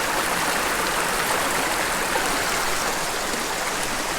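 Water from a small urban creek spills over a little artificial waterfall, a dense steady rushing and splashing that stays close and even throughout, with no talk.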